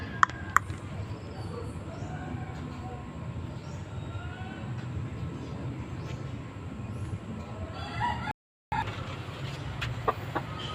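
Chickens in a coop cluck softly nearby over a constant low rumble of background noise, with a few sharp clicks and a brief dropout of sound partway.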